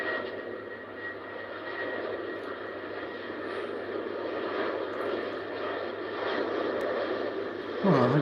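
KLM airliner jet engines at Heathrow airport, a steady distant roar that builds slowly and holds as the plane powers up, with no talking.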